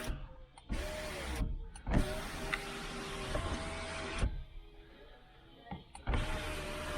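An electric sunroof motor taken from a Jeep Grand Cherokee and fitted in a 1968 Chevelle Nomad whirs in several separate runs with short pauses between them, close and clear, and no one talks.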